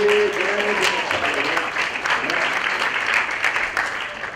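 An audience at an international sustainability seminar applauds for the Castelo Branco delegation, a dense, steady wash of clapping heard close and continuous throughout.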